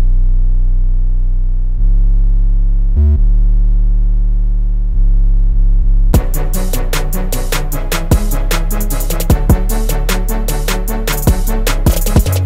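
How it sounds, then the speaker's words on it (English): Deep 808 bass notes with fast distortion hold and step in pitch, first alone, then joined by a busy beat of sharp percussive hits, all loud and upfront with no voices. "for these 808s, we're adding some pretty fast distortion"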